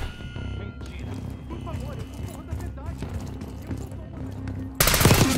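Gunfire bursts in Call of Duty Black Ops 6, with rapid shots crackling under steady game music and ambience before a loud, dense burst of fire erupts near the end.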